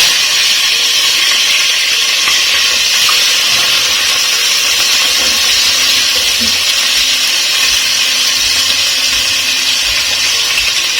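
Garlic and onion sizzle in a hot pan as vegetables cook together, a steady, fairly loud frying hiss that runs unbroken from start to end with no one talking.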